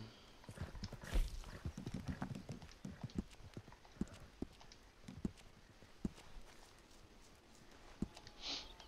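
Horse hooves clip-clop steadily in Red Dead Redemption 2, a run of fairly close, regular clopping beats over a low game background with no talk.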